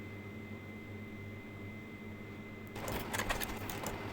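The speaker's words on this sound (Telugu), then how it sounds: "ఇలా స్టిచ్ చేసేయండి నీట్గా మెల్లగా స్టిచ్ చేసుకోండి" Sewing machine stitching rolled thread piping, a faint hum that breaks into a burst of rapid mechanical needle clatter near the end.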